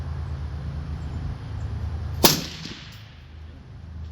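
A single sharp gunshot cracks out over steady outdoor background noise at a firing range during testing, followed by a brief fading echo and no talking.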